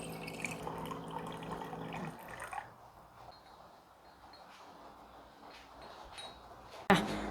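Hot water pours from a tap or hot-water dispenser in a Taiwanese household, a steady broadband rush for about two seconds, then quieter trickling and drips with a sharp clink near the end, no talking.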